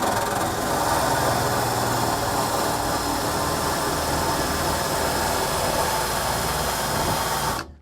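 Wire wheel scrubbing a car floor pan during welding prep, a steady loud grinding whir with rasping metallic scratching that runs unbroken for most of the stretch, then cuts off abruptly at the end.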